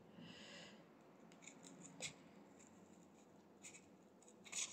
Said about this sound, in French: Et vous allez venir découper les deux couches de papier toilette.